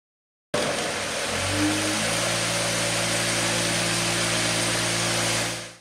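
An OBS 18DC square buff orbital floor sander switches on after servicing and runs as a loud, steady motor drone with a constant whirring hum that holds to the end.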